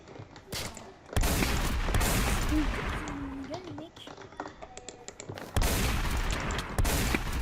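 Rapid bursts of gunfire in the zombie shooter game InvasionZ, loud and close, coming in several dense volleys that rise and fall, with voices talking over parts of it.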